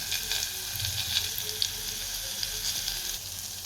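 Potatoes sizzle steadily in a hot pan with turmeric and crushed peanuts for a vegetable dish, a continuous close frying hiss with small crackling pops and no talk.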